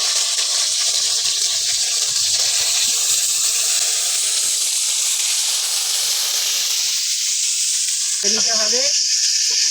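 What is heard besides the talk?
spiced whole eggplants frying in oil in a wok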